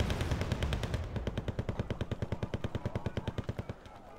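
Loud, close machine-gun fire from a war video game rattles off in rapid, evenly spaced bursts of about twenty shots, with nothing else heard.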